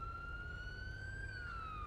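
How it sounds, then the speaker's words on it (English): A police car siren in GTA roleplay wails in a single faint, smooth rising-then-falling sweep over about two seconds, heard softly in the background without talk. "You gotta turn your sirens off."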